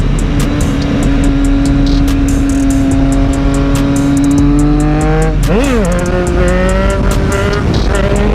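Street bike engine revving hard and loud up close, a strong steady high whine that drops and swoops back up mid-way, with heavy wind rush throughout.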